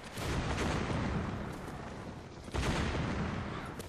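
Heavy booming cannon fire in a video game rolls continuously in dense overlapping blasts, with a fresh loud volley breaking through midway, no voices heard.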